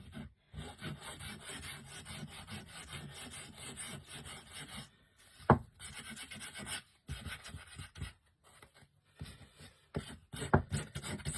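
Rhythmic rasping strokes of sanding on wood, close and fairly quiet, with brief pauses between passes.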